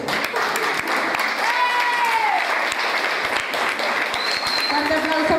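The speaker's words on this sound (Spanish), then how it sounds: "Fuerte aplauso para Nicole Aramburú Hernández" Loud, sustained applause from a crowd at a children's dance event fills the whole stretch, with voices and an announcer heard over it.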